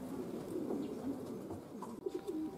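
Racing pigeons home from a long training flight, arriving back at the loft together with birds from another loft; soft cooing and faint chirps sit over a steady low outdoor hum, with no talk.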